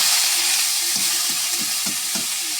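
Dried shrimp frying in a pan hisses with a loud, steady broadband sizzle up close, while a utensil stirs the pieces with repeated soft scraping taps about every third of a second.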